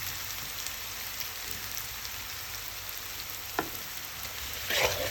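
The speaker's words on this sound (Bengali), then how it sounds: "এখন ফ্রাই প্যানে তেলটা দিয়ে দিচ্ছি। গরম হয়ে গেছে। এখন পেঁয়াজ দিয়ে দিল।" Onions go into hot oil in a frying pan, giving a steady, even hiss throughout, with a brief clink midway and a slightly louder sizzling burst near the end.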